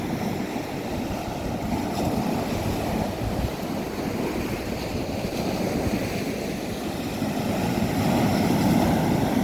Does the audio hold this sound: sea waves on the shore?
yes